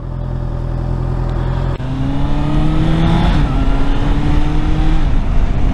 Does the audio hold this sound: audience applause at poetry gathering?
no